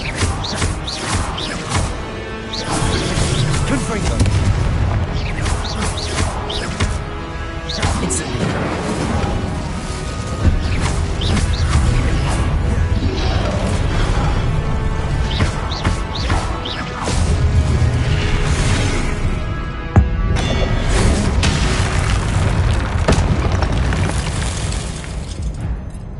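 Booming spell explosions and crashing blasts from a wizard video game, loud and continuous over music and effects, with speech-like game audio mixed throughout.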